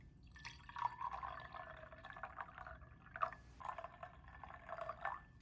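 Distilled 5% vinegar is poured quietly into several containers in a kitchen-style setting, giving faint, steady trickling and dripping with small splashes.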